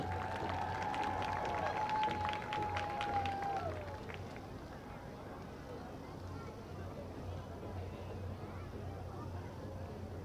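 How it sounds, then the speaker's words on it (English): Crowd applause at a high school event between New Caney HS and Caney Creek HS, a steady wash of clapping and cheering that starts full and slowly thins, with a sustained whistle-like tone early on. "Big round of applause for the Masters."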